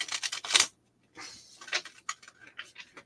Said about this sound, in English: So I'm going to shuffle one more time because this deck is